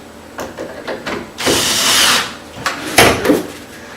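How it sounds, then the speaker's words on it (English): A power drill drives screws into an interior door hinge, giving two close bursts of whirring, a longer one followed by a shorter one, with light knocks and handling clatter in between. "so now you just shoot a couple more screws."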